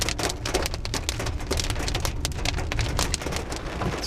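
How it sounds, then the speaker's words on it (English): Heavy rain mixed with hail pounds on an SUV roof during a drive along the edge of a lava flow, a dense, loud, continuous patter of close impacts with no voices. "It's raining pretty hard now."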